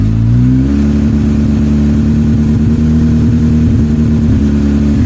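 A warm Honda motorcycle engine idles loudly up close at fixed throttle, its low throb uneven and lumpy, the pitch sagging slightly as it starts to die out.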